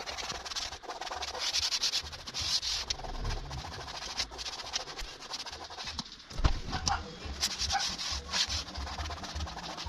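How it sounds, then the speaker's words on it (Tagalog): A cloth scrubbing a stain on a car's upholstery, producing soft, irregular rubbing and scratching strokes at close range, with faint background noise. "Makalipas po ang 1 minuto, pwede natin kuskusin."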